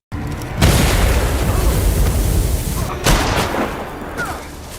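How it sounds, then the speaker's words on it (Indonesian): Heavy explosive booms from a set trap burst out in a forest, then a long echoing roar rolls away through the trees, followed by another blast and fading reverberation. "Suara ledakan bergema di seluruh hutan."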